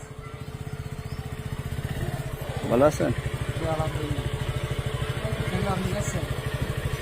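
A motorcycle idles close by with a steady, rapid putter that holds throughout, while people talk over it.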